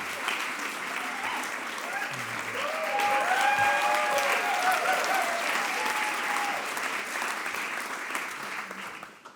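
A large audience at an evening speakers' event at the European Forum Alpbach applauds for its president, a dense, steady wash of clapping that swells in the middle and fades at the end, with faint voices underneath.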